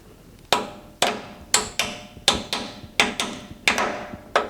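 A hammer thumps about nine times in a steady rhythm, driving a bearing out of the front brake assembly of a 1973 Ford F100. The blows are sharp, close metallic knocks, each with a short ring, and no one speaks.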